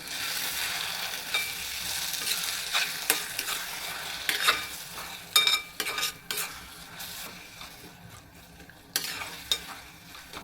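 Egg methi, fenugreek greens with eggs, stirred and fried in a pan, a steady soft sizzle under repeated scraping clinks of a spoon against the pan, close and uninterrupted with no voices.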